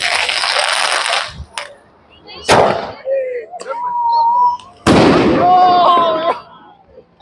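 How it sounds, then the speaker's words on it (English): Diwali missile fireworks burst outdoors with two loud, sharp explosive cracks a couple of seconds apart among smaller pops and crackles, while people talk between the blasts. "you're going to burst some missiles. You can see a missile went behind me."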